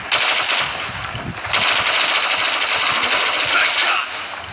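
Sustained rapid machine gun fire in the video game Modern Combat 4, loud and dense bursts rattling almost continuously throughout, with no talking.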